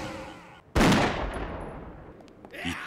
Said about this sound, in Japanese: 一発の銃声がその声をかき消した。